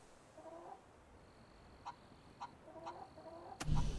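A chicken in the video game Fable 3 gives a few soft, spaced clucks, faint and close, with a louder flurry at the end and no talk.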